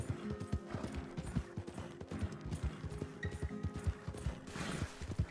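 In Red Dead Redemption 2, a horse's hooves beat quickly and steadily at close range, a continuous run of clip-clops heard almost alone.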